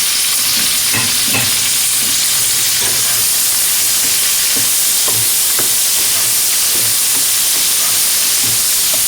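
Green chillies, seven or eight of them, sizzle in hot oil in a pan while chilli fish is cooked, a steady bright hiss with soft stirring knocks throughout, close and continuous with no talking.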